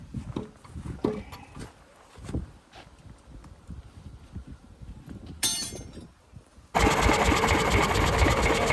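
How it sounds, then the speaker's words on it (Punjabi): A repaired engine at a sugarcane works is cranked by hand amid clanks and knocks. About two-thirds of the way through it catches on the first turn and settles into a loud, steady, rapid chugging run. "ਕਰਤਾ ਇੰਜਨ ਸਟਾਰਟ ਇਹ ਪਹਿਲੇ ਹੈਂਡਲੇ ਹੋ ਗਿਆ ਸਟਾਰਟ"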